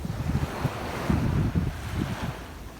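Sea waves washing in with gusting wind at the seaside at Newbiggin-by-the-Sea, a steady low rush of surf with wind buffeting the microphone, no voices.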